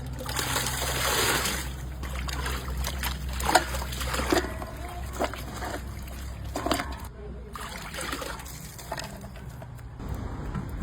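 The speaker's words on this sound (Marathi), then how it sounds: "पण आता बिर्याणीसाठी मिक्स व्हेज स्वच्छ पाण्याने धुवून घेऊ।" Mixed vegetables for biryani are rinsed in clean water, making a steady trickle and splash with some sloshing, and a voice speaks over it.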